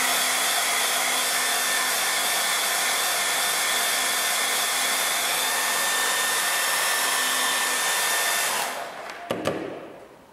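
Close and loud, a hair dryer blows a continuous even whoosh with a faint whine over a watercolour painting, then switches off and leaves a few small clicks and knocks.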